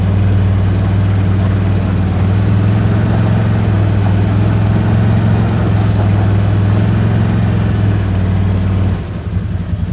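The engine of a 2023 CFMoto ZForce 950 HO EX UTV drones loudly and evenly as it pulls away from a start, a close, deep hum holding for several seconds before cutting off abruptly.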